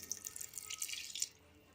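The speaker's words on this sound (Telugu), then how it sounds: "అలాగే కొంచెం హాట్ వాటర్" Hot water trickles and splashes into sapota juice, a short close pour with bright dripping notes that fades quickly.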